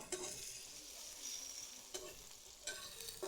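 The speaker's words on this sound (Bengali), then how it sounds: "পেঁয়াজ আর রসুন কুচিগুলো ভালোভাবে লাল লাল করে" Chopped onion and garlic frying in oil in a wok make a faint, steady sizzle, with a couple of brief scraping stirs breaking through.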